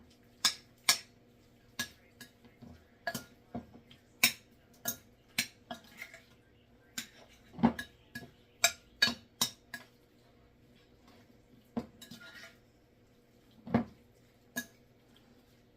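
Broccoli and other vegetables being tossed together in a bowl, a long irregular series of sharp clinks and taps from the utensil against the bowl, close and alone.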